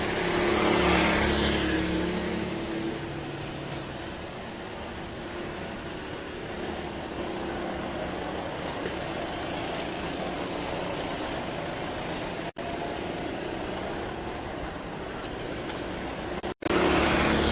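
Yamaha R6 racing motorcycles at Monza, a continuous steady engine drone carrying through the whole stretch at moderate distance, with no talk.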